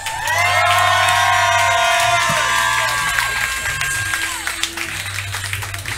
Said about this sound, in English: Go ahead and make some noise.